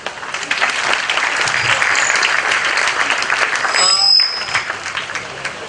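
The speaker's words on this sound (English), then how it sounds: "I want another round of applause for Dasur sir, please" An audience at a Model UN panel discussion breaks into sustained applause, a dense wash of clapping that swells and holds, then tapers with a brief bright ring near the end.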